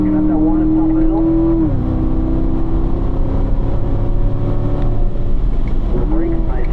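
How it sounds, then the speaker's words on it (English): A race car engine on a driving-school circuit pulls hard under throttle, its tone climbing then dropping at an upshift into fifth gear, loud and close, with a driver talking over it. "Squeezing on that throttle up to 5th gear."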